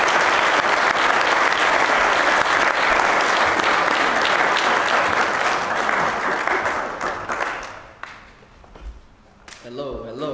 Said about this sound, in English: if you will give me a resounding applause and welcome